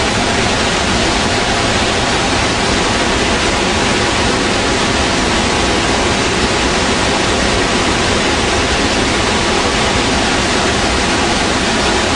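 Thunderous, unbroken roar of Iguazu Falls heard from the Brazilian side, a loud, uniform wash of crashing water that fills everything with no variation or pauses.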